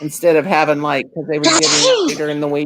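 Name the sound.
sneeze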